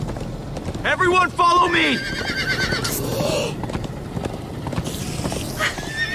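Horses gallop with steady clip-clop hooves and loud whinnies in the video game Minecraft: Story Mode, while voices shout excitedly over the running herd.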